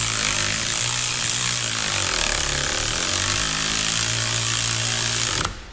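A power tool runs continuously and loudly while a bushing sleeve is driven into a Corvette C5/C6 suspension arm fitted with Ridetech Delrin bushings, a rough buzzing whine with pitch shifts under load, cutting off abruptly at the end.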